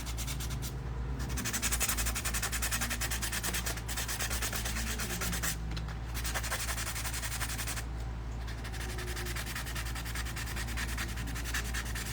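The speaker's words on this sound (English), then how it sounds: "I figure I might as well sand it now." Someone hand-sands a trinket dish with steady, close, scratchy rubbing strokes, a continuous abrasive rasp with brief rhythmic pauses and a low hum underneath.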